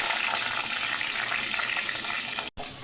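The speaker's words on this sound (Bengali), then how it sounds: "পাটিসাপটা পুরের সুন্দর গন্ধের জন্য কয়েকটা আমি কারি পাতা ফোড়ন দিলাম" Curry leaves frying in hot oil as tempering for a vegetable filling for patishapta, giving a steady close-up sizzle and crackle that cuts off briefly near the end.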